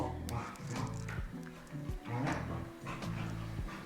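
A dog barks repeatedly in a home while a French-speaking Animal Crossing livestream is underway, the loud barks coming in close bursts over music and game sounds.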